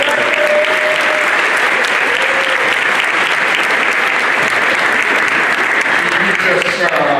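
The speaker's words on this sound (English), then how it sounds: "we should all give Allison Brown an awfully big round of applause" A crowd at a high school athletic signing event applauds loudly and continuously, dense close clapping with some voices and whoops mixed in.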